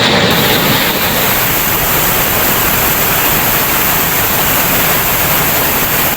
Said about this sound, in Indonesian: Air terjun di kejauhan menderu tanpa henti, suara alam yang memekakkan sekaligus menenangkan.